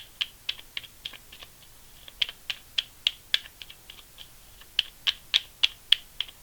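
Tarot cards shuffled by hand close up, giving a quick run of crisp, papery clicks and flicks in uneven bursts, with a short pause in the middle and no voices.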